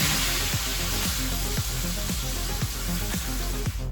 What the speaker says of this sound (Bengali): এবার আস্তে আস্তে আমি মাছটাকে উল্টিয়ে দেবো, উল্টো পিঠটা ভাজা দেবো